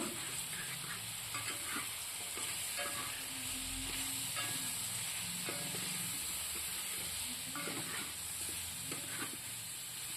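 Spice masala fries in a pan, stirred over a constant broadband sizzle with faint scraping taps and a low hum underneath, quiet and steady for the whole stretch.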